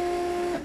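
Desktop 3D printer printing hard plastic in a spare bedroom gives a steady whining electronic hum of stepper motors, close and constant, fading out at the end.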